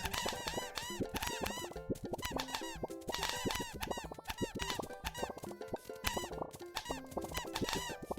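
Rapid cartoonish squeaks and chirpy blips from the penguin minigame in the video game Dream Daddy, a dense, busy stream of overlapping high bleeps repeating without pause, moderately loud.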